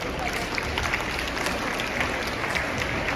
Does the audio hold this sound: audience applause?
yes